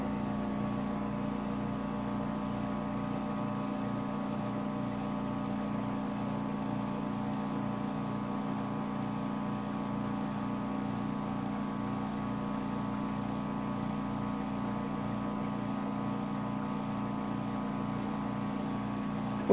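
Harrick PDC-001 plasma cleaner chamber pumping down to vacuum, a steady mechanical pump drone with a tonal hum and fast regular pulsing, unchanging and continuous throughout.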